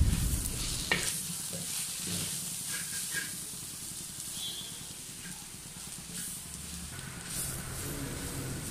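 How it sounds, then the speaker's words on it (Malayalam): Masala and pepper are stirred and sautéed in a pan for beef dry fry. Quiet sizzling and steam hiss run throughout, with scraping stirs at intervals and no voices. "അതും കൂടി ചേർത്ത് നന്നായി ഇളക്കി യോജിപ്പിച്ച് വഴറ്റിയെടുക്കുക"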